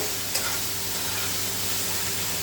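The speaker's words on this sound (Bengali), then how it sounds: "মশলাটাকে আমি কষাতে থাকি" Masala spices for chicken curry sauté in hot oil, producing a dense, continuous close sizzle with one small pop near the start, heard alone without any voices.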